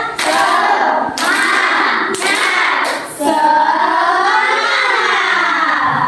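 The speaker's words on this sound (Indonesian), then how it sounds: "1, 2, 3. Tepuk semangat." A classroom of children performs a rhythmic spirit clap, with loud unison claps in short bursts punctuated by sharp hits, followed by the children chanting together close up.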